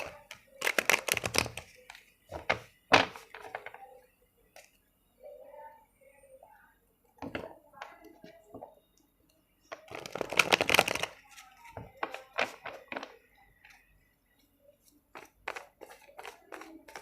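Tarot cards shuffled by hand in bursts of crisp riffling and tapping, close and moderately quiet, with pauses and scattered small handling clicks between.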